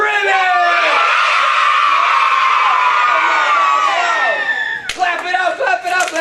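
A crowd of children loudly yells "ribbit" together in imitation of frogs, a sustained, raucous group shout during a literacy week event, trailing off into scattered cheers, claps and chatter near the end.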